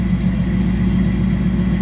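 Steady, close idle from a 1965 Chevelle Malibu 350 V8 breathing through Flowmaster mufflers, a deep even burble with no change in pitch and no voices.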